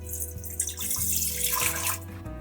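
Water poured into an Instant Pot for cooking chocolate pudding, a steady splashing stream running continuously and fairly loud throughout, with no voices.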